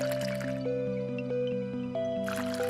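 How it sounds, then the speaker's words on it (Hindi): Water trickles slowly onto soil in a clay pot as a seed is planted, heard as a steady run of soft drips over a sustained musical backing. "और धीरे धीरे पानी डाला।"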